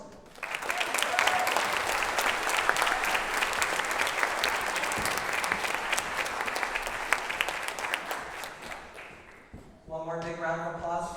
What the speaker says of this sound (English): One more big round of applause for our band senior class.